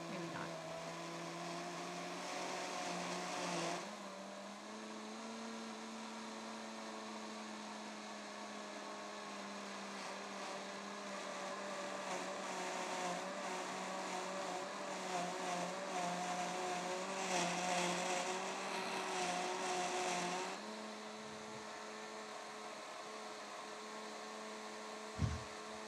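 A Vitamix blender runs steadily for about twenty seconds, a loud whirring motor hum with a brief speed change near the start, then cuts off, leaving a quieter background and a single sharp knock at the end.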